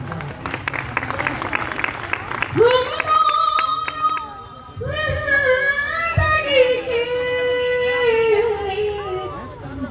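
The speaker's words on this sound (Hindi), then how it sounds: "शेर अच्छा लग जाए तो एक एक शख्स की दाद मुझे चाहिए तालियों के रूप में।" An audience claps for a ghazal couplet at a live recital. A brief burst of applause is followed by a melodic voice with tonal accompaniment.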